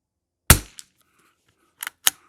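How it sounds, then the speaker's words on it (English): An old Savage Mark II rimfire rifle firing Eley match ammunition at a range, one sharp close crack followed by lighter clicks and another shot, with short gaps of silence between. "Let's shoot 3 5-round groups with Eley match and see what this old Savage Mark II can do."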